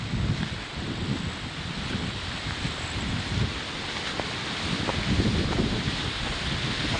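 Strong typhoon wind roaring steadily in Malolos, Bulacan, a loud continuous gusting rush with rustling and buffeting throughout, no voices.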